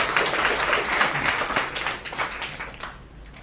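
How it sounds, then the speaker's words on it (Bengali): A seated audience at a direct-selling training session claps loudly for their trainers. The brisk, crowded applause is strongest at first, then thins out and fades over a few seconds. "আমাদের সমস্ত ট্রেনারদের জন্য একবার জোরে হাততালি হবে।"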